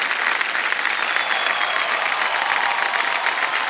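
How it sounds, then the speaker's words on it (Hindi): Studio audience applause on the KBC India quiz show, a dense, steady clapping from a large crowd that holds evenly throughout without fading. "तालियां बज जाएं"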